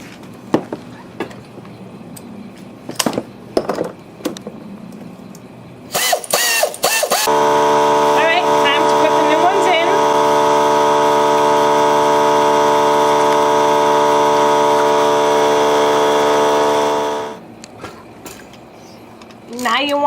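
Air tool on the spark plugs of a Lexus GS350 F Sport, running as one loud, steady, sustained whine for about ten seconds after some scattered clicks and handling noises.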